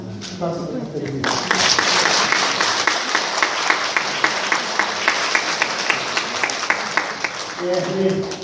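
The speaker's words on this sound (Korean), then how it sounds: "박수 부탁드립니다." A church congregation at Mass breaks into sustained, even applause after a spoken request, with a rhythmic clapping pulse; a voice talks briefly before and after.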